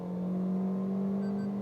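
Maruti Brezza engine held high in its rev range, a steady, even droning hum at constant pitch, loud and close throughout with no speech.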